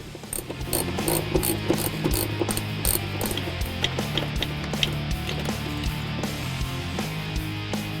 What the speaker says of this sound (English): We'll remove our seat belts next using a T50 Torx bit.